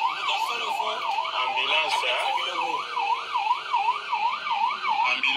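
An ambulance siren wails in a fast, regular up-and-down sweep, loud and continuous over faint background noise.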